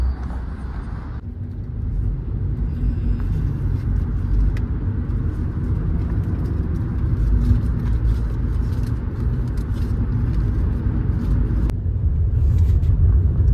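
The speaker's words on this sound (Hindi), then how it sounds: "पूरा जाम लगा हुआ है देखिए।" Cars and other vehicles crawl in a traffic jam near the border, a continuous low rumble of engines heard up close from inside a vehicle, steady and unbroken.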